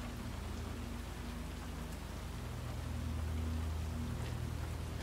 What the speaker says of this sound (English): Bad day for rain.